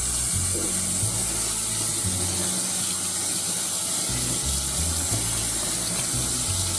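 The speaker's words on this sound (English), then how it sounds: "we're going to run them under some hot water to rinse them off" Hot tap water running steadily over cooked pasta shells in a kitchen sink, a loud continuous splashing hiss with a low rumble underneath, no talking.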